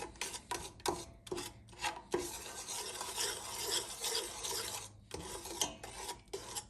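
Milk-powder sauce for tuna mac stirred in a pot, a spoon scraping and rasping around the bottom in steady repeated strokes, close and fairly loud, with a faint sizzle underneath and no talking.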